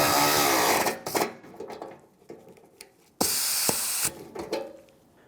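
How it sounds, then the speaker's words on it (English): A power tool drives a bumper bolt on a 1996-2002 Toyota 4Runner in two loud bursts, each followed by short clattering and rattling as the tool is handled. "Now let's tighten up the lower rear one."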